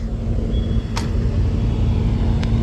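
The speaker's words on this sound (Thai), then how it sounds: "เร่งเครื่องวันนี้อีกแค่หน่อย" A car's engine revs as it drives up, giving a steady, loud low rumble that stays close throughout, with no talking.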